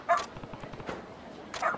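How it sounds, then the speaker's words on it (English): A dog barks in the video game Like a Dragon: Ishin!, with two sharp yips near the start and end and faint background sounds between them. "Stupid barking dog."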